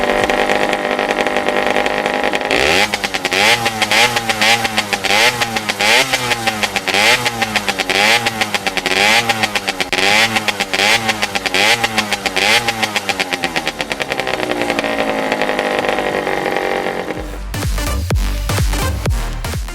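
A motorcycle engine idles and then revs up and down repeatedly in rhythmic swells, loud and close, before a brief louder burst at the end.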